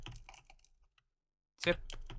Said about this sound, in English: So I'll type this in the chat if you'd like.